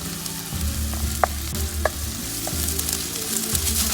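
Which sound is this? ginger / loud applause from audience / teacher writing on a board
ginger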